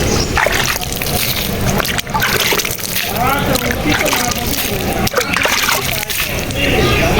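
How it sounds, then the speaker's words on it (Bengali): Water is poured over newly planted trees on damp ground after rain. A loud, continuous splashing and sloshing runs through the whole clip, with a few brief knocks. "লাগাই পানি দিয়ে দিচ্ছি হালকা করে।"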